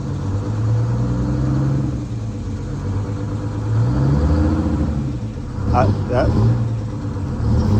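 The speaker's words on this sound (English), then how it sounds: "I'm going to kind of hold an RPM and let it jerk." Antique bus with stuck rear brakes, its engine held at a steady rumbling RPM that swells and eases as the vehicle jerks, with a few sharp squeaks near the end and people talking over it.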